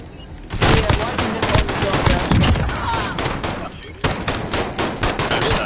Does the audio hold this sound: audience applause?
no